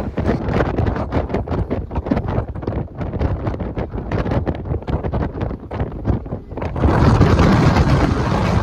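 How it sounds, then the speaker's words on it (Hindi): Strong wind on a Calais to Dover ferry buffets the microphone in a steady, loud roar with gusty bursts, growing heavier and more constant toward the end. "और ऊपर तो इतनी तेज़ हवा थी, इतनी तेज़ हवा थी, बहुत ही ज़्यादा तेज़ हवा।"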